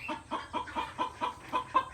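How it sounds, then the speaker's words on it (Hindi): A farm rooster gives a rapid series of about eight clucking calls in an even rhythm, close and clear, with no talk over it. "आवाज़ तो आप सुन रहे हैं अल्हम्दुलिल्लाह हमारे मुर्गे की अलविदा कर रहा है सबको"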